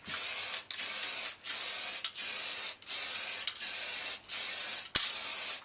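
Spray can laying down a final coat of primer on a Harley 883 Iron belly pan, eight steady hissing bursts of roughly half a second each, separated by brief gaps, close and fairly loud, with no voices.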